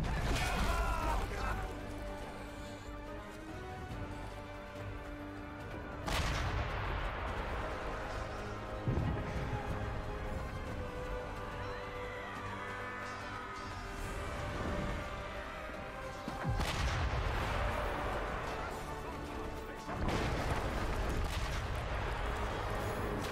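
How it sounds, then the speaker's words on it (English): Heavy booming cannon blasts from Chivalry II, several loud impacts spaced a few seconds apart over a rumbling battle background. "Are we supposed to not attack these cannons?"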